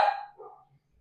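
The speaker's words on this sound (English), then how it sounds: "Sorry, the dog's barking." A single short dog bark at a home, sharp and fairly close, followed by a softer trailing yip and then quiet.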